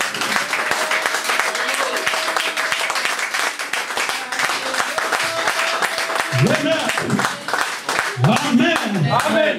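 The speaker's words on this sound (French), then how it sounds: "Donnons des acclamations à Jésus." Church congregation applauding and cheering during a French-language sermon in Lyon, a steady dense clapping wash with scattered voices rising toward the end as people call out over it.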